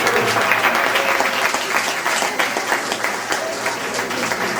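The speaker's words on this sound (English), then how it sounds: "How about a big round of applause for Larry?" Dense, loud, continuous applause from a crowd for a performer named Larry at a studio backlot tour show at Disney's Hollywood Studios, sustained evenly throughout.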